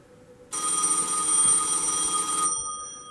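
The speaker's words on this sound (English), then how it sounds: "Can you hear that ringing?" A single loud ring from an Automatic Electric pay phone bell, a harsh metallic clatter lasting about two seconds, heard close up with no talking.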